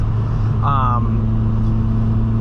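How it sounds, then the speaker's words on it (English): A 1986 Volkswagen Scirocco 16V engine heard from inside the car while driving, a steady, droning hum that stays fairly constant, with a brief higher chirp near the start. "you can feel the engine breathing more, its lungs opening up as you gain speed and go through the rev range"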